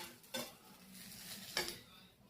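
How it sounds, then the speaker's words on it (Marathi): An omelette frying in a pan, with a faint steady sizzle and two sharp clinks of a utensil against the pan, near and quiet, with no voices. "अंडा मस्त शेकतोय"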